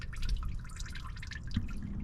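Engine oil drains out of the oil pan of a Subaru Outback 2.4 turbo during an oil change, making a close, steady trickle and patter of liquid with small drips, no voices.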